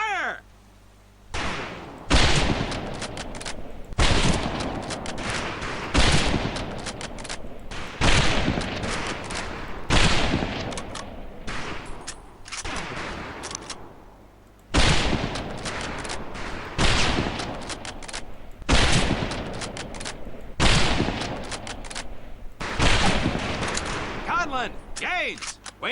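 Repeated rifle volleys crack out at a firing range in Medal of Honor Pacific Assault, roughly a dozen loud bursts spaced a second or two apart, each with a rolling tail, continuing across the whole stretch.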